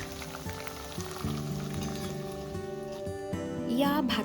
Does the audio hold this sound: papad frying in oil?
yes